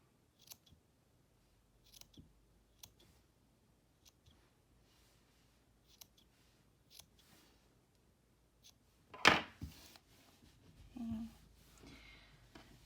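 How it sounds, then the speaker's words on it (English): Crisp scissor snips trimming the ends of a yarn tassel, close and quiet, come one at a time at irregular intervals, followed by a louder rustling handling noise near the end. "I'm going to take, again, my sharpest scissors"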